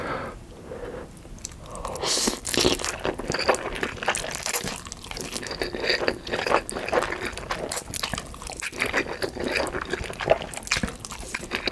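Crunchy mini corndogs and mini pork cutlets are eaten with cheese sauce alongside spicy carbonara buldak noodles, with close, steady biting, crunching and chewing and wet mouth sounds throughout, no talking.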